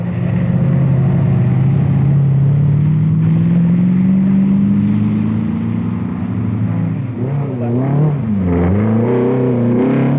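A Range Rover rally car on the 1971 East African Safari Rally, heading for Mombasa, roars past with a loud, steady engine note rising in pitch, then shifts and fades with wavering revs as it speeds away.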